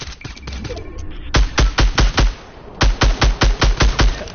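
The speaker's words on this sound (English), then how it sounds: "Oh, we're getting shot at, I think." Gunfire in a PS4 video game comes as two quick runs of evenly spaced automatic shots, loud and punchy, with a short pause between bursts and quiet game ambience underneath.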